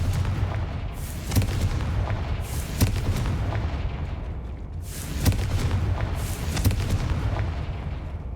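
Repeated Confringo fire spells in Hogwarts Legacy, a video game, burst as loud booming explosions every second or two over a continuous low rumble, with sharp cracks on each blast.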